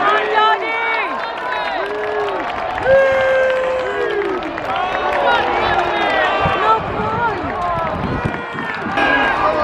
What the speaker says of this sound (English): Come on, cheer for them. Cheer for our charity team.